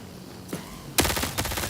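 Gunfire in the shooter game Marathon: a single soft shot followed by a loud burst of rapid automatic fire, close and punchy, with no talking.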